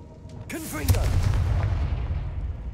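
The Confringo blasting spell goes off in the video game Hogwarts Legacy, a single deep explosive boom that swells and rumbles on for a couple of seconds, following a short spoken incantation.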